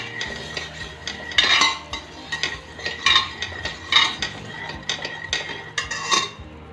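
Potatoes and spices are stirred together in a pan with crushed red chilli, producing loud, close, rhythmic scraping and clinking of a spoon against metal, repeated in quick bursts with no voices.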